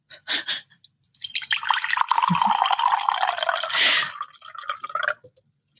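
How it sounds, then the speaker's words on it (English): A sweet tea-shop drink with jelly bits is poured into a glass, making a close, continuous splashing pour of a few seconds with short drips just before and after. "And then pour it in this glass."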